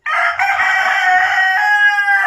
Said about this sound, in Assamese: এইটো হৈছে ৰ'ড আইলেণ্ড ৰেড আৰায়াৰ কুকুৰা চৰাইৰ পোৱালি হয়